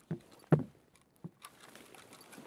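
Footsteps in the Escape from Tarkov video game: a few separate soft thuds at uneven intervals, followed by a low, busy shuffle of movement. No one speaks.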